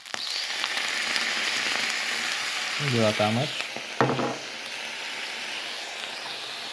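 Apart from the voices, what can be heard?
soy sauce sizzling in a frying pan with rice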